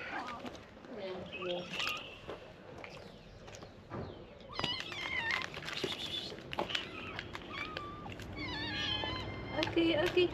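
A kitten meows several times in high, wavering cries, mixed with people talking nearby and some background clatter.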